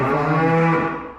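A heifer or cow moos once in a long, low, steady call, close and loud, in a grass field on a farm where heifers, cows, calves and a teaser bull are fed silage outside.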